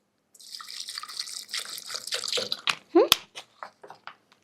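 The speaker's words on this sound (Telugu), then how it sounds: "సో ఇందులో కొంచెం వాటర్ వేయండి" Water is poured into a mixer jar, a close splashing pour that tapers into a few separate drips and trickles at the end.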